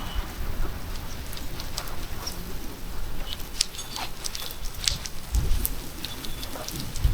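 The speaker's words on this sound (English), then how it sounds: "Here comes the rain again." Cold spring rain falls steadily outside a garage during a storm, a dense, even patter of drops on surfaces with scattered louder taps up close, heard alone.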